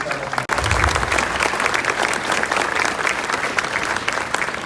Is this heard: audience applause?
yes